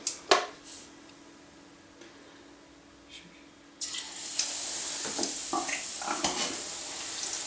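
A Mars bar lowered into a shallow pan of hot frying oil: after a quiet start the oil bursts into a loud, steady sizzle and crackle that continues to the end, with a few clinks at the beginning.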